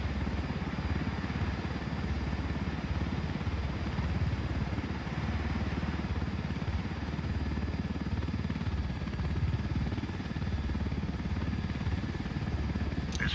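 Helicopter in Ghost Recon Wildlands, a continuous buzzing rotor and engine drone that holds steady and close throughout, with no speech over it.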